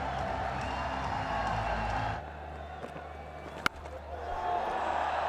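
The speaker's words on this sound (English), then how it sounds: "Raises his bat to the crowd for a huge cheer" Stadium crowd roaring for a batsman's first ODI fifty during a Pakistan vs West Indies one-day international cricket match, a broad sustained wash of cheering that drops back partway through, with a sharp crack and the noise swelling again.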